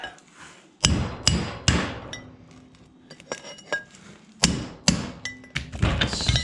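A hammer strikes a Timken bearing race while it is driven into a Jaguar independent rear suspension, giving sharp metallic blows in irregular clusters with ringing clinks and short pauses, close and loud.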